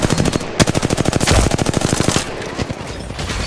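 Loud, rapid automatic gunfire from a shooter video game, with sustained bursts of rattling shots and a few heavier single reports close up.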